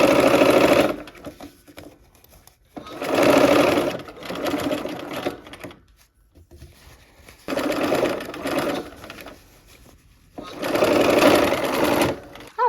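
Sewing machine stitching quilt pieces together, running in four steady bursts of a few seconds each with quiet pauses between, close and clear.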